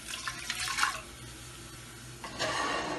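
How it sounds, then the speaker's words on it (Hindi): Water is poured from a cup into a pressure cooker holding rice, a short splashing pour followed by a pause and a second brief gush, close and fairly loud. "चावल डालेंगे, 1 कप पानी डालेंगे"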